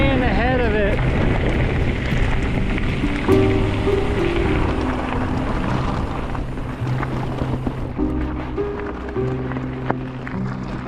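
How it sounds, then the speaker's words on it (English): Steady rain falling during a rainstorm on a bikepacking ride along the GB Divide, a continuous hiss mixed with wind buffeting the microphone, while a voice talks over it. "we're trying to outrun this rainstorm"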